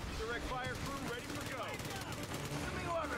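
Gunfire from Company of Heroes 3 during an Italian campaign battle, with scattered shots and machine-gun bursts rattling steadily over a dense background of other game sounds and voices.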